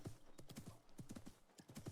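Rapid hoofbeats from a galloping horse in Assassin's Creed Mirage, close and rhythmic in quick clusters with a faint whinny underneath and nobody speaking.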